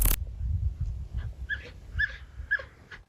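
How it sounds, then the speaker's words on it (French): Dogs fleeing a forest whimper in fear: a series of short, high, whining cries repeat several times, fairly close, over a low rumbling background after a brief loud burst at the start. "Les chiens fuyaient la forêt avec peur, presque en pleurnichant."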